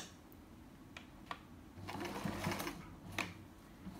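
A sewing machine stitches a line on fabric for a chair pouch, its motor whirring in short soft runs and pauses, faint and close with scattered clicks between bursts.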